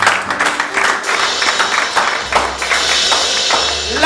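A church congregation applauding during a sermon, with a dense burst of clapping from many hands at moderate distance that thins out over a few seconds.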